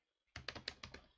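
Quick bursts of computer keyboard typing, about seven sharp key clicks in an uneven rhythm, close and fairly quiet after a brief silence, with no talking.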